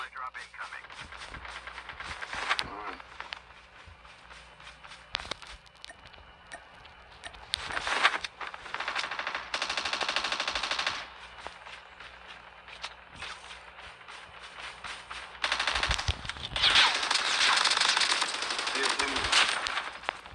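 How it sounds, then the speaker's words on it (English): Bursts of automatic gunfire in a video game firefight on the Alcatraz map, coming in loud clustered volleys separated by quieter stretches, with a voice talking over parts of it. "I just got into a gunfight"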